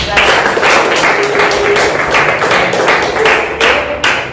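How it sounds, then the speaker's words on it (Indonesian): Classroom applause for a classmate who has just shown how to make Indomie: a dense, steady patter of many hands clapping close by, with a few sharper bursts, over about four seconds. "Oke, tepuk tangan untuk kawan kita"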